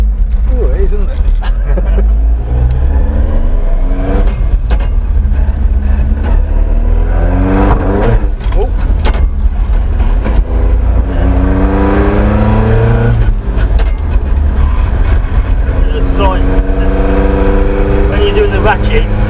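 Morris Minor car engine revving while driving, rising and falling through several loud accelerating runs with gear changes, its steady drone running under people talking in the cabin.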